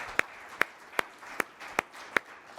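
Steady single handclaps at a business conference, spaced evenly about every half second, soft and fairly distant with a low room hum beneath and no talking.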